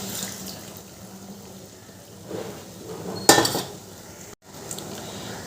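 Water from a rinsed dal bowl is poured into a pot of cooking radish dal. A soft splash and pour runs under faint kitchen noise, with one sharp clink of metal bowl against pot, a brief cut, then quieter pouring.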